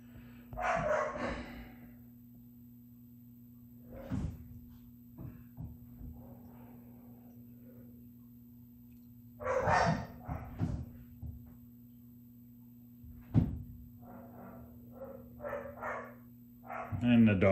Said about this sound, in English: And the dogs are playing now.